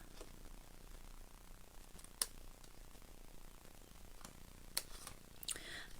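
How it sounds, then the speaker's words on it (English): Scissors snipping a die-cut paper piece for card making, a few faint, sharp snips spaced apart over a quiet room background. "So I'm just going to literally snip that out of the die cut."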